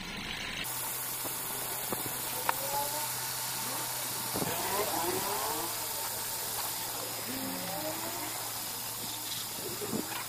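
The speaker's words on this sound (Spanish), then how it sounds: "ya se le quitó el ruido de la banda, ahora ya nada más queda el ruido del motor" A car engine idles steadily with a low, even hum and airy hiss, no squealing belt after the belts were lubricated, punctuated by a few faint clicks and knocks.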